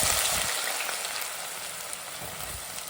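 Onions frying in foaming peanut oil with cumin seeds for a fish curry, a loud, steady hiss of sizzling that fades slightly over a few seconds, with no talk.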